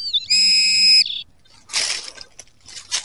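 A metal detector sweeping over flat stones in an Alpine valley gives a short, steady high-pitched electronic whistle, followed by scattered rustling and scraping bursts.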